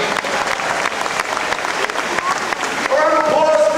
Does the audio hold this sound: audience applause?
yes